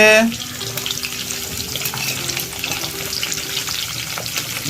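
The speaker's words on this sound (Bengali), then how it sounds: "তেল গরম হওয়ার পরে পেঁয়াজ দেওয়া হচ্ছে" Onions sizzle in hot oil in a pan for chicken curry, a dense, steady frying hiss that stays close and continuous throughout, with a few faint clinks over it.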